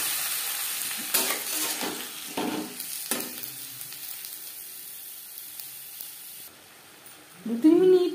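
Tomatoes dropped into hot oil with five-spice tempering and fried dry red chillies sizzle and hiss loudly, with scraping stirs for a chutney, followed by a short stretch of quieter frying and a brief voice at the end.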